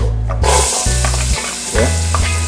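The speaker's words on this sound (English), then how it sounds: "we'll add a little bit of onion and make that go and fry out" Onion fries and sizzles in a pot of curry goat while a spoon stirs and scrapes, loud and close, with a steady hiss under the clatter.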